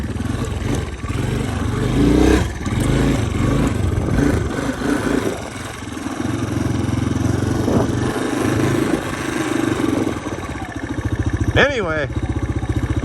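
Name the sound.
Honda Big Red 250ES engine running during a morning ride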